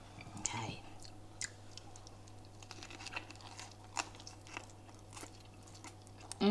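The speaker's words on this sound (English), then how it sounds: "So we have rolled it up, and now we are ready to eat." Quiet chewing of rolled chicken and pancakes, soft crunchy bites and mouth sounds scattered across a hushed background.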